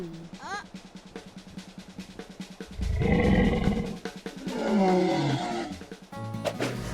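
A cartoon dinosaur roars in a French-dubbed animated children's show, with loud, low growling roars bursting out over music and effects, alongside character voices.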